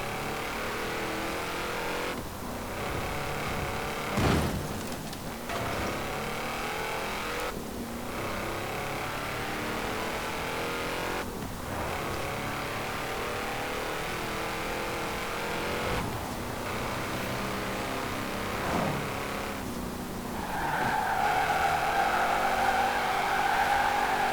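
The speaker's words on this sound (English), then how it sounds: "It's mainly this really growling V8 that just dominates everything" A growling V8 engine of a 2012 Shelby 1000 in the video game Forza Horizon 4 drones continuously, rising and falling as gears shift, with a whining tire squeal near the end; no talking.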